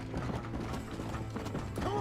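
Horse hooves clip-clop in the western video game Red Dead Redemption, an uneven gallop of thuds mixed with mechanical clicks and rattles, with faint talk in the background.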